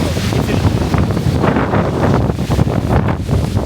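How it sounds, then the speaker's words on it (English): Strong wind roars across the microphone on a London street, a loud, continuous buffeting rush with rumbling gusts throughout. "walking over to the other side, the wind almost blew us away"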